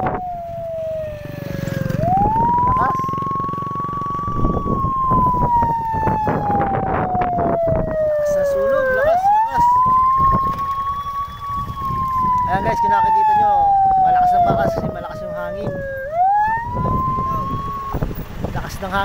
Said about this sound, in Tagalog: Ito na yung bumbero, nandito na sa tabi natin.